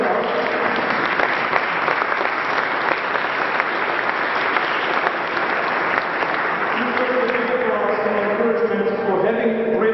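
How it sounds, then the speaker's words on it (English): Sustained audience applause for Wilma Giordani, the host's wife, at the Marcello Giordani Foundation opening; a steady, dense wash of clapping fills the room throughout, with voices and cheers rising near the end. "my wife, Wilma, who deserves a big applause"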